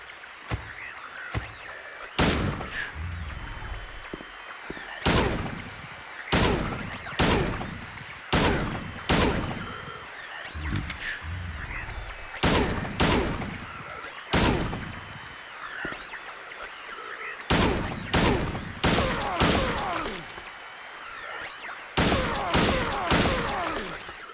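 Gunfire from the video game Silent Hill 2, aimed at a monster: sharp, loud shots ring out one after another at uneven gaps, each with a short ringing tail over a dim background hum.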